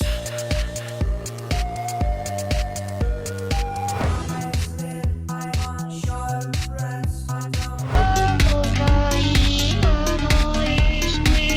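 A bouncy electronic drum beat with punchy kicks and snappy hits in a danceable groove under synth tones, growing fuller and louder after about eight seconds; no voices.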